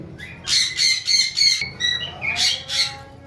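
A pair of pet Opaline budgerigars calls in a series of bright, harsh squawks close by, about six bursts in a loose rhythm with short gaps between them.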